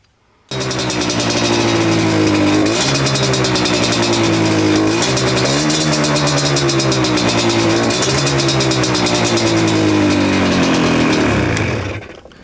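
A Yamaha Banshee engine running lean after a carburetor adjustment revs hard and loud, its pitch climbing and dipping in repeated surges and hanging high like a runaway before cutting off at the end.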